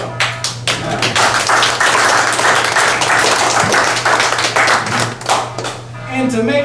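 Audience applause at a campaign speech about tax policy, a steady burst of clapping lasting several seconds before thinning out, with a low constant hum beneath and a voice returning near the end.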